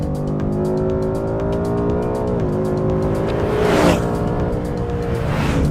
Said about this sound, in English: I love the sound of that engine, and unlike the Supra, this is naturally aspirated.